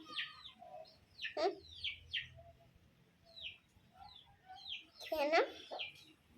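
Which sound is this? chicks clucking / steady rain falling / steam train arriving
chicks clucking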